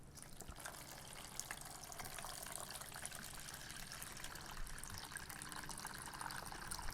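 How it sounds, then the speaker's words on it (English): Water running from a tap into a pot for seed-starting, a steady faint gushing splash that continues throughout. "I fill this one up halfway with water."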